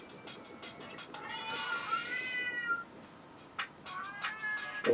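Cartoon cats in the video game Rocket Cats meow repeatedly in short, high chirps, with a longer drawn-out yowl in the middle, over a quiet busy game-music bed.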